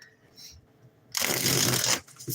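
A deck of cards being riffle-shuffled, a quick fluttering burst lasting under a second, followed by a short tap.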